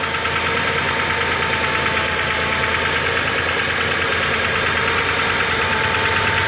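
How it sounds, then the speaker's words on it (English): Minivan engine idling with knocking lifters, a steady close-up rumble carrying a fast, even ticking knock throughout, with no talk over it. "you hear that knocking? That happens to be, I believe, the lifters."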